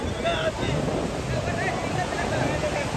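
Ocean surf rolls onto a beach in Goa, a steady broadband wash of breaking waves with heavy wind buffeting the microphone, loud and close throughout with no clear separate crashes.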